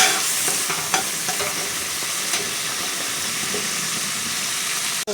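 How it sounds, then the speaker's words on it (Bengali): Shrimp fry in a hot pan while a taro stolon curry with mustard and poppy seed paste cooks, giving a steady close sizzle with a few sharp stirring clinks and no voices. "এদিকে চিংড়ি মাছটাও ততক্ষণ ভাজা হয়ে যাবে।"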